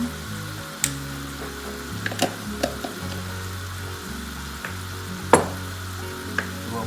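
Noodles are stir-fried in a pan with fish sauce and sugar, giving a steady sizzle close by, broken by several sharp scraping clicks of a utensil as the food is tossed.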